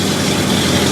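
A Ford Galaxie engine with a Holley carburetor idles, a loud, steady low rumble filling the whole moment with no talking.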